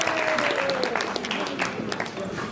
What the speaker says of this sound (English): can we give ourselves a hand of applause?